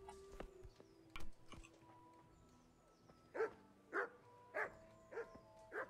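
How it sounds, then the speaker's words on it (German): A dog barks in the medieval role-playing game Kingdom Come: Deliverance, a run of five sharp, fairly close barks in quick regular succession, with scattered game sounds before them. "sobald ich den Hund erwische, schlägt der Alarm"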